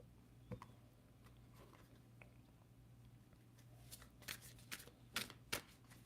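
Tarot cards shuffled by hand, soft riffling patter that builds into a run of sharper, louder card snaps toward the end, close and alone over a low steady hum.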